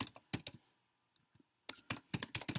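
Computer keyboard being typed on, crisp close clicks in two quick bursts separated by a near-silent pause with a few faint taps.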